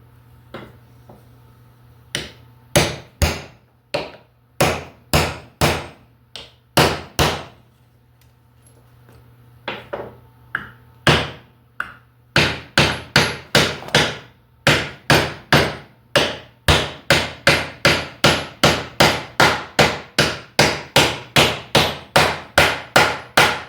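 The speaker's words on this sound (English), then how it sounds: "just gonna tap that seal in there like that" Hammer tapping an engine seal into place on a Ford 2.3 turbo short block: sharp metallic taps, sparse and irregular at first, then a quick steady run of evenly spaced light blows, close and clear with no talk.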